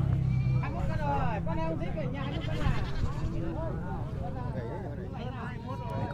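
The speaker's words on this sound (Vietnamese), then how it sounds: "dê cà, dê đực" Goats bleating at the Cốc Ly highland market in Bắc Hà, Lào Cai: several quavering bleats overlap amid chatter from the nearby crowd, with a voice speaking briefly close by.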